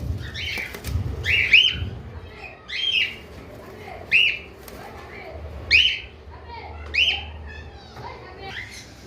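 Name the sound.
parrots calling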